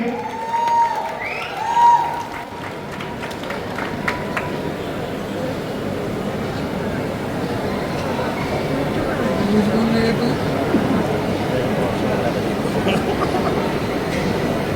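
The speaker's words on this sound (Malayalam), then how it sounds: "ഒരു ഗംഭീര കയ്യടി" At the ThugLife Kerala film launch in a Kochi mall, a host's amplified voice opens the clip, then a large crowd breaks into sustained applause and cheering that swells and holds to the end.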